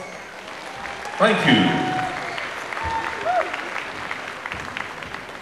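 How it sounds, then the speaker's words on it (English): A crowd at the 2008 Seminole powwow breaks into loud applause that swells quickly, then thins into scattered clapping, with someone speaking briefly over it through a PA. "Another big round of applause."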